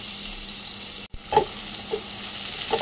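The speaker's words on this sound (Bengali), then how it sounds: "এবার আমি সয়াবিনগুলোকে ভেজে নেব।" Soybean chunks fry in hot oil in a kadai, a steady sizzle with a few stirring scrapes, close and moderately loud, broken by a brief gap of silence.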